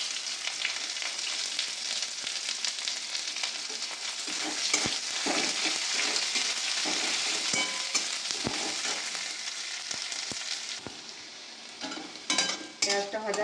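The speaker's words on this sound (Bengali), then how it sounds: "পেঁয়াজটা ভাজা হয়ে গেছে" Onions fry in a pan with clove, cinnamon and cumin, a steady close sizzle broken by scraping stirs and sharp utensil knocks, louder clatter near the end.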